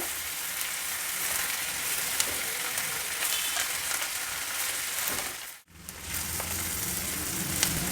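Vegetables and dried peas sizzle steadily in hot oil for a sorghum-flour upma tempering, a loud constant crackling hiss close by, broken once by a brief moment of quiet.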